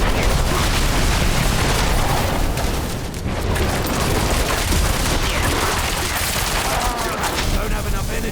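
The Barrage skill attack in Diablo IV, a dense, continuous roar of rapid-fire impacts and booming hits that stays loud and unbroken throughout, with a voice faintly mixed underneath.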